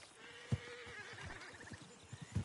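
A horse in Red Dead Redemption whinnies in a short, wavering neigh, close and fairly quiet, with soft hoof thuds and snorts around it.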